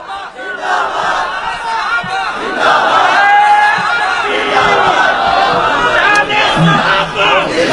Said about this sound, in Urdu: صحابہ کے نام کا ایک نعرہ لگائیے گا۔